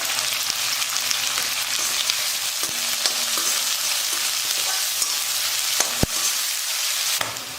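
Onions and green chillies frying in a pan give off a loud, continuous sizzle, broken by a couple of sharp clinks from a stirring spoon.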